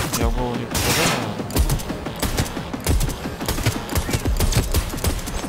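A combat firefight in Cyberpunk 2077 with dense bursts of automatic gunfire and scattered single shots, uneven and loud, with mechanical clatter mixed in.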